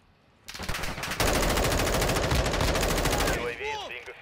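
Rapid automatic gunfire in Call of Duty Modern Warfare II rattles in a long sustained burst, loud and close with a dense rhythmic stutter, then cuts off as brief chirping game sounds follow.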